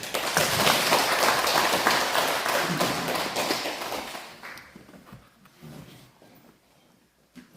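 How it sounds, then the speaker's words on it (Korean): A church congregation bursts into dense, loud applause for a few seconds, then thins into scattered, fading claps and a few taps toward the end. "영광의 박수."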